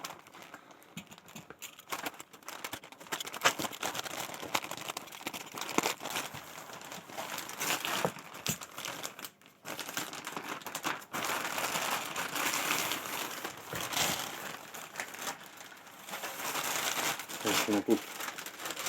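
A branded plastic bag crinkles and rustles steadily as it is unwrapped, holding a pair of knives, with close, busy crackling and a few short pauses.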